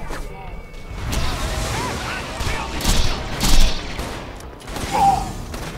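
Repeated shotgun blasts and booming impacts in a shooter video game, mixed with mechanical clatter and battle noise, fairly loud and continuous over several seconds; a voice talks over the action.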